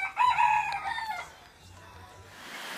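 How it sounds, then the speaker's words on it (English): A rooster in Tonga crows once, loud and close, its call rising and trailing off, followed by quieter low background sounds. "There's the rooster."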